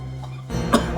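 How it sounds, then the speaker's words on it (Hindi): A man coughs hard in a short burst, close and loud, in a tense indoor police drama scene. "सांप का टुकड़ा देखकर इतनी खांसी?"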